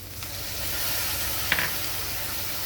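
Ground spices frying in a pan with ginger and garlic, a splash of water just added, giving a steady close sizzle with one brief sharper hiss midway.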